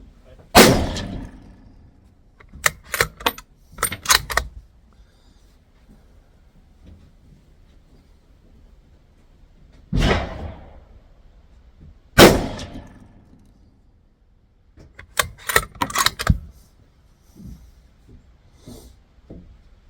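Rifle shots from Remington Core-Lokt tipped 150 grain rounds, six loud sharp reports spaced several seconds apart, with clanking of the action between them.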